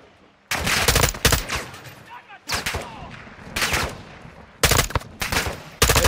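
Bursts of automatic gunfire in the video game Modern Warfare 2 come in several loud, sharp volleys separated by short gaps, with in-game voices and effects in between.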